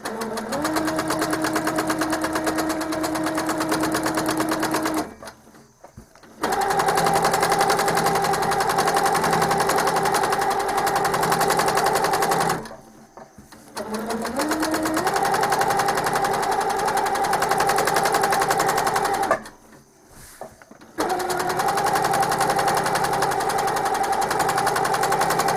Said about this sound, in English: I don't try to free motion the entire half circle at a time because it's too much for me.